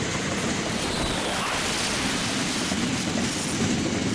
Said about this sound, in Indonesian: kereta dari arah Jakarta.